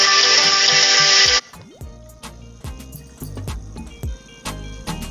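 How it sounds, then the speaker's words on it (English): A loud steady rush of water pours from a pump draining a construction site at the Montego Bay airport expansion, then cuts off, leaving a lower engine drone with scattered clanks and knocks. "Pumping water out of the work site right now."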